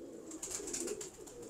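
Slate-coloured pigeons coo close by in a loft, a continuous run of low throaty calls with no talking.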